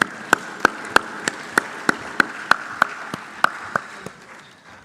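In a main conference room at an African summit, a slow, evenly spaced run of about fifteen crisp claps keeps a steady beat, then fades to quiet near the end.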